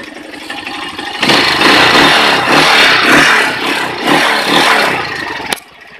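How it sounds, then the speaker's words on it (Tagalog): A Rusi SSX motorcycle engine fitted with a converted CDI and a new stator starts and runs close by, idling, then revving in repeated loud throttle blips before cutting off sharply. "Maandar na yung motor."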